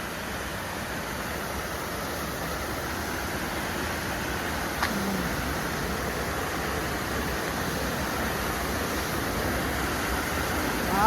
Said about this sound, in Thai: ก็ที่เดิมนะคะที่น้ำตกที่เดิมเลย น้ำเป็นน้ำตกร้างนะ อ้น้ำเยอะมากเนี่ย